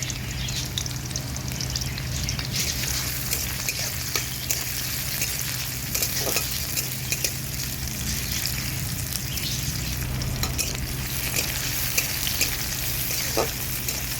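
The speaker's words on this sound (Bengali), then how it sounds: "তেল গরম হয়ে গেছে, দিয়ে দিচ্ছি পেঁয়াজ।" Continuous hot-oil sizzle of onions frying for gima greens, a dense crackling hiss with occasional soft stirring clicks, close and unbroken throughout.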